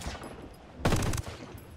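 A short, loud burst of rapid automatic gunfire in the video game Ghost Recon, a tight cluster of cracking shots lasting about a third of a second against quieter background game noise.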